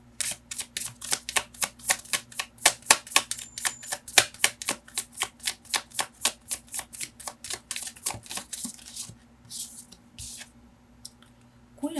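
Tarot cards are shuffled by hand in a rapid run of crisp riffling slaps, close and fairly quiet, with the rhythm loosening and slowing toward the end.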